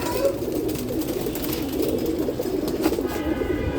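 Racing pigeons coo steadily in a loft, soft throaty rolling calls overlapping continuously at close range with faint rustling.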